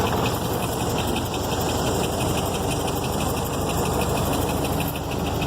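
A Model T Ford engine runs in high gear, a steady close rumbling drone with a faint regular knock, continuous and unchanging in loudness.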